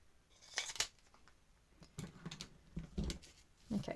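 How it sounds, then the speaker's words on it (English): Scissors snipping through paper in several short, crisp cuts spaced irregularly, close by, with quiet pauses between and no voices. "I'm just going to do that with my scissors"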